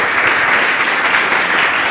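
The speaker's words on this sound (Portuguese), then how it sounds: "Louve a Ele com suas palmas, bem forte" A church congregation claps loudly and steadily together during worship, a dense, sustained wash of applause with no speech.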